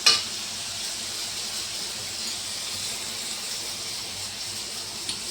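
Rohu fish pieces with turmeric and salt being turned in a hot frying pan, a continuous soft sizzle and hiss with a sharp scrape at the start and another near the end.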